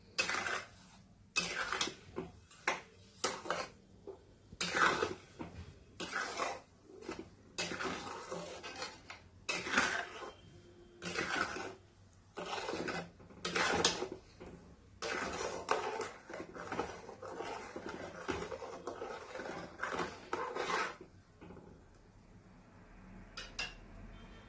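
A spoon stirs apple jam with sugar in a metal pot, making repeated scraping clinks and knocks in an uneven rhythm, close and moderately loud, with no voices.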